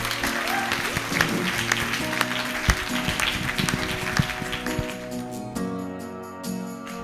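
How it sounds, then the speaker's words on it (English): Wedding guests applaud the bride and groom in a reception room, steady clapping throughout with music or background chatter mixed in, fading slightly toward the end. "So I invite you all to applaud, please, for the bride and groom."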